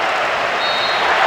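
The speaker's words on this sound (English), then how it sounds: "A huge roar from the crowd as the referee blows the final whistle" A stadium crowd at the Euro 2000 final roars and applauds at the final whistle, a dense, steady wash of cheering and clapping that fills the whole moment and swells slightly toward the end.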